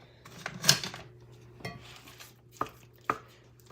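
Sloppy Joe ground meat being broken up in a pan, a few sharp, separate clacks and scrapes of a utensil against the pan, spaced out over a few seconds on a quiet background.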